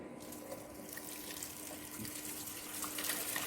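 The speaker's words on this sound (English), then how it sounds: "When we open the valve, normally cooling water rushes inside the engine." Cooling water rushes through an opened valve into a Marshal diesel engine, a steady broadband gushing and hissing that holds throughout at moderate loudness.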